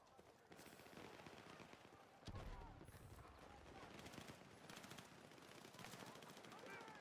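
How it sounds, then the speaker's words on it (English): Rapid video game gunfire crackles in faint bursts of distant machine-gun shots with one heavier boom, continuing under and between other game sounds. "we're getting shot at from back here. You can hear it."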